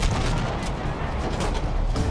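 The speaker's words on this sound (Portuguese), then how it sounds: "Explosão pra todo lado, cara." Dense, heavy booms and gunfire-like blasts in Battlefield V rumble continuously, loud and close, with no pause between them.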